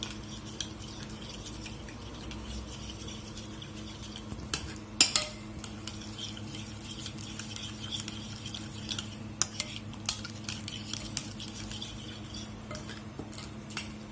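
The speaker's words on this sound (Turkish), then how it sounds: "Soslarımızı iyice karıştırdıktan sonra diğer işlemlerimize geçeceğiz." A spoon stirs a spice sauce with cumin and black pepper in a bowl, a faint, close, steady scraping with scattered light clinks of metal on dish.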